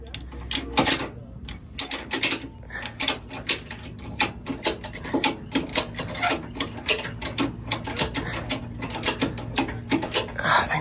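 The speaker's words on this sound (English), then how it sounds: "let's try to ratchet strap that forward" A ratchet strap is cranked on a damaged salvage truck's fender, giving a rapid series of sharp metallic clicks in uneven bursts, fairly close and steady over a low background hum.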